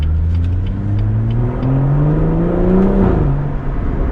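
A BMW M140i fitted with an M Performance exhaust and resonator delete revs loudly and close, its engine note climbing steadily over a few seconds before dropping back.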